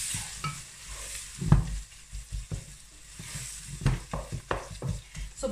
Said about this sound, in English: Okay, I'm going to give that a good mix.